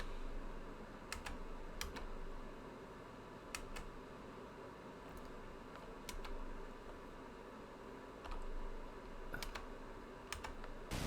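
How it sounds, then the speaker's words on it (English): Typing on a buckling spring computer keyboard, with a numpad 2 key that sounds slightly off: sparse, sharp clicking keystrokes come singly and in pairs over a steady soft background hum. "the number 2 key on the numpad is making a slightly weird sound, so I'm probably going to have to readjust the buckling spring in it"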